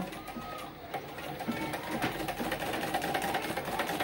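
A sewing machine stitches a niqab with a close, continuous mechanical whir and rapid needle ticking that runs without a break.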